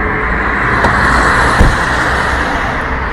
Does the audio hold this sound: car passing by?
yes